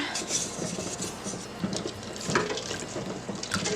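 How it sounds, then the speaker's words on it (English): A pickle brine of whole cloves, turmeric and sugar is stirred in a pot on a stovetop, giving soft continuous liquid swishing with faint scrapes against the pot, steady and close. "Give this a little stir."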